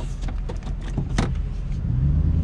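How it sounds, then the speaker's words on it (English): A car in small-town traffic, its engine and road noise forming a steady, loud rumble with a few brief mechanical clicks or knocks, heard up close and without speech. "Oh, that is small town traffic."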